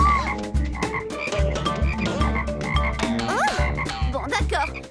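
Cartoon frogs croak in a lively chorus of repeated, rhythmic ribbits over bouncy background music, with a few sliding comic tones mixed in.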